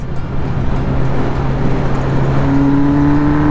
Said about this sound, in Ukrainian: мене обганяє машина